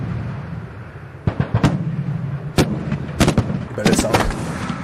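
A Shilka anti-aircraft vehicle fires its AA cannons in the Ukraine war, sharp booming bursts cracking out in irregular clusters over a constant rumbling background, fairly loud and unaccompanied by speech.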